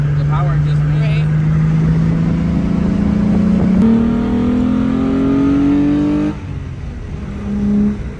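A Volkswagen GTI MK2 with a swapped-in MK3 VR6 engine revs up in a rising, steadily climbing engine tone, close and loud, then drops off sharply and gives a short final blip, with someone talking over it.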